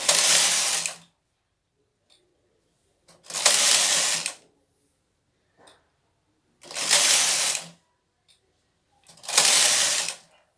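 A knitting machine's lace carriage slides back and forth across the needle bed in four loud, rasping passes of about a second each, separated by quiet pauses, with no talking.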